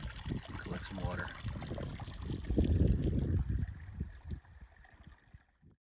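A small creek near Hance on a Grand Canyon hike trickles and gurgles softly close by, with a person talking over the water.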